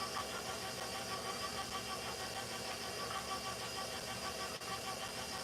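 A KitchenAid stand mixer churning red velvet cookie dough, giving a steady, even motor whir with a faint repeating knock that holds constant for the whole stretch, close and moderately loud, with no voices.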